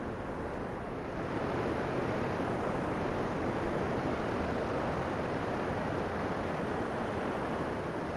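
Powerful rushing river water at Dean Village: a dense, constant roar that holds at an even level throughout, heard alone without voices.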